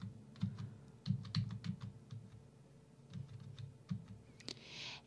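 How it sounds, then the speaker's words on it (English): Arrow keys on a computer keyboard are tapped in quick, irregular clicks, close and fairly soft, with short pauses between bursts and no talk. "I can use the arrow keys to expand as well as retract any of the lists below"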